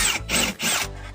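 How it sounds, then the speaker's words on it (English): Power drill with a 90-degree angle bit boring through a wooden fire block inside a garage wall, two loud whirring bursts with a brief pause between, then the motor winding down. "So I'm gonna drill it with my 90-degree angle bit"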